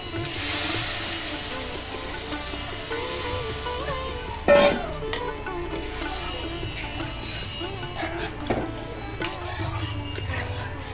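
Water is poured into cooked-down masala for a bele fish curry, a sharp splash followed by hissing and sizzling in the pan, with a few clanks of utensils close by.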